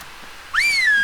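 A single rising, then gently falling whistle from a player character in the ARK survival video game, issued as a command to tamed dinosaurs; a clear, sustained tone that starts abruptly after a quiet moment.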